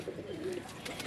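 A pigeon gives a soft, brief coo, faint and close, with a light background hiss behind it.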